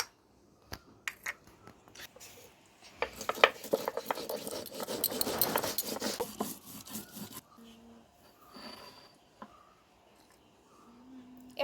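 Cumin being ground with neem-like gandal leaves on a flat stone grinding slab: a dense stretch of rough, rhythmic rasping and rubbing strokes in the middle, with scattered scrapes and taps before and after, close and moderately loud.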